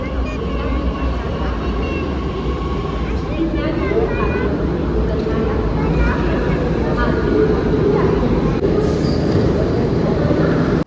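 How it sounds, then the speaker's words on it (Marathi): A metro train pulls into the Civil Court station with a loud continuous rumble of wheels and rails, faint squeals near the end and a busy platform din throughout. "आली मेट्रो."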